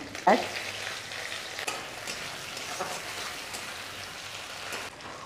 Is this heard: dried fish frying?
yes